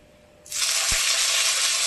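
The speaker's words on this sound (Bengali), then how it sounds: "টমেটোটা ভাজা ভাজা করে নেব" Tomato dropped into hot oil, a sudden loud burst of sizzling that starts about halfway in and holds steady, with a soft thump as the pieces land.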